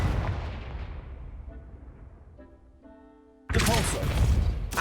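A Confingo explosive spell in Hogwarts Legacy goes off as a loud blast at the start, its rumble fading. A tonal chime follows, then a second sudden, heavy explosion erupts near the end.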